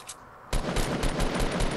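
Rapid automatic gunfire from Fortnite Battle Royale starts abruptly after a quiet moment and continues as a steady, loud stream of close shots.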